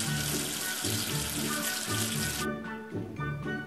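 Running water pours steadily from a tap as soap is rinsed off, a close, continuous splashing flow that thins out partway through, with no talking.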